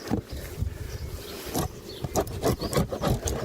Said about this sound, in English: See, there's quite a bit of comb here, which I'll scrape off.